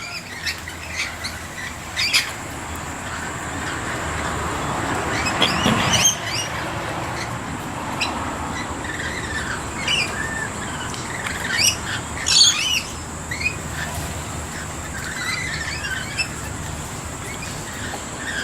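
A large flock of wild parrots squawks and chirps at a backyard feeding spot stocked with bread and seed, harsh calls overlapping continuously with louder bursts near and farther away.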